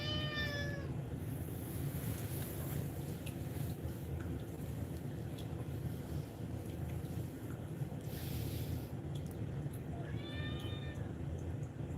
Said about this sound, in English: then I get on camera and you start meowing.